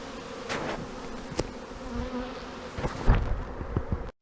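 Honey bees buzzing around an open, honey-filled hive during a spring inspection, a dense steady close drone with individual bees flying past the microphone, plus a few knocks of hive handling near the end.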